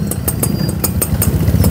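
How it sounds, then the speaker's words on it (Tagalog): Motorcycles being let through on a road after typhoon damage, a loud nearby engine burbling with rapid rhythmic pulses, steady and close throughout with no talk. "pinadaan na po yung mga motor"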